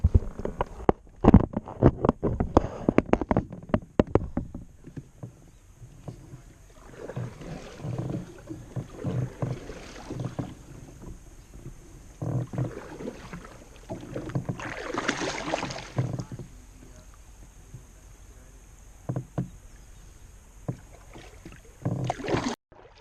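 Boat paddled down the Peace River, with irregular splashes and knocks of the paddle against water and hull, close by and moderately loud, separated by quieter gaps of drifting.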